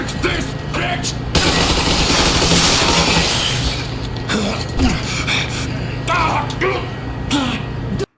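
Gunfire in the Metro Exodus video game, a burst of loud shots and impacts as a jammer is shot full of holes, mixed with game sounds and voices talking throughout.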